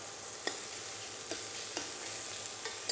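Aromatics saute in a pan as the start of a sauce, a quiet steady sizzle broken by several soft clicks and taps of stirring, with no voices.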